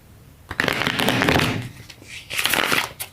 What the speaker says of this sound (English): I just want to shuffle them well.